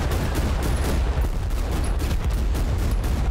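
A constant barrage of distant gunfire and rumbling explosions fills Total Conflict: Resistance while defenders hold back a missile push, a dense, unbroken din with faint high tones and no speech.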